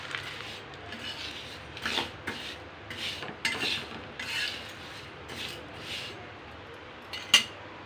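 Urad dal dry roasting in a pan, heard as faint, intermittent scraping and rustling with a few brief louder scrapes and a sharp knock near the end, no talking.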